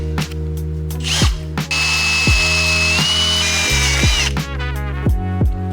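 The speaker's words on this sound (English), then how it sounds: "we're gonna have to clean those up and Dremel that out or something" Dremel rotary tool grinding and cleaning up parts on a '77 Volkswagen Scirocco: a close, high whining spin with a sharp tonal screech in the middle as the bit bites metal, then tapering off.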